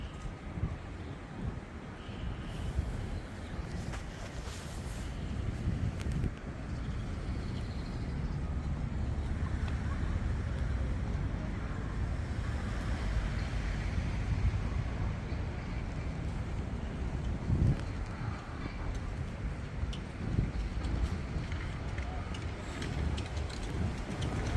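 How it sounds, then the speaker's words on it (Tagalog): Strong wind roars steadily against the microphone outdoors near the Beehive parliament building, a continuous low rumble with gusty surges throughout. "Malakas ang hangin guys."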